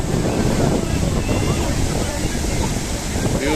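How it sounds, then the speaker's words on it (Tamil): Water pours forcefully down a small fall near the Athirappalli Waterfalls in Kerala, making a dense, continuous rushing roar that stays loud and close from start to finish. "இவ்வளோண்டு ஃபால்ஸ்லேயே அவ்வளோ ஃபோர்ஸாக தண்ணி விழுது."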